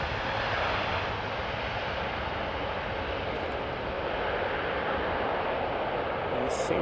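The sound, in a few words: Boeing 787 Dreamliner airplane engines at Amsterdam Schiphol Airport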